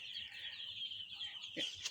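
Young Sonali chicken chicks, a few days old and kept on litter, peep in a faint continuous high chorus with a slightly louder call near the end.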